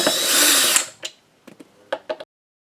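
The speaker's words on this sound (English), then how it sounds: "At this point I like to remove the neck bolts." A power driver backs out the neck bolts of a Squier Mustang guitar in a loud close whir, followed by several short ratcheting bursts and a brief clicks as the screws come loose.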